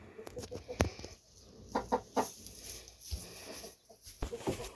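Hens cluck in short, uneven bursts close by, with soft farmyard background noise and no talking.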